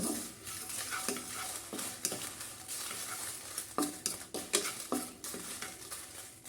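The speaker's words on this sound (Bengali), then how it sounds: "কিছুটা শুকনো মরিচ দিয়ে দিলাম মরিচগুলো এখন একটু ভালো করে হালকা তাপে একটু তেলে নিব" Dried red chilies fry in oil in a pan over low heat, a constant sizzle broken by repeated spatula scrapes and clinks against the pan, close and moderately loud, with no one talking.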